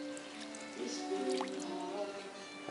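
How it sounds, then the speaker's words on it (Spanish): Lentils being rinsed in a container of water, with soft drips, small splashes and squishy liquid movement. The sounds are fairly quiet and close, and a faint voice murmurs in the background. "estas son las lentejas en el agua limpiando,"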